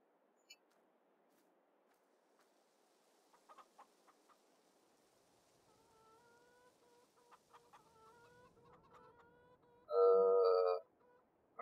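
A flock of chickens on a farm in the Farming Simulator 22 video game, kept in large numbers, clucks softly and intermittently in the background. Near the end one loud, sharp squawk stands out, and no speech is heard.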